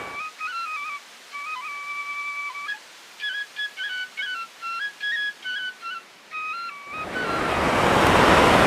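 Water rushes through a gharat, a traditional Indian watermill. High, thin whistling tones come first, then a loud, broad rushing surge swells up and continues to the end.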